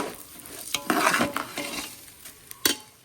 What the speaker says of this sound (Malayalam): പിന്നെ ചില അരികൾ ഒട്ടിപ്പിടിക്കും, അതുകൊണ്ടാണ് നമ്മൾ വറക്കുന്നത് കേട്ടോ